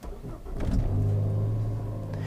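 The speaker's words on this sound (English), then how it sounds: "we're going to go ahead and start up the car so you can see what it's like when it starts up" A Ford Focus ST starts up: a short cranking whir catches, then the engine flares into a revving rumble and settles into a steady, fairly close idle with no talking.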